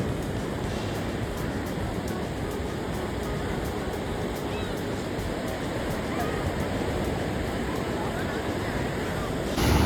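Surf at a rocky beach in Pondicherry, a continuous dense wash of breaking waves, loud and steady with wind buffeting the microphone throughout.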